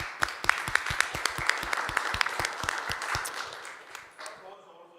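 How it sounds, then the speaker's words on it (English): An audience claps after a panel discussion at a shipping and emissions side event, a brisk burst of many hands that thins out and fades toward the end, with a voice briefly underneath. "let's give them a round of applause"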